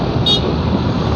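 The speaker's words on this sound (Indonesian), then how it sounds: "Wah, klakson gua." A motorcycle horn gives one short toot in Tangerang traffic, rising briefly above steady road and wind rumble.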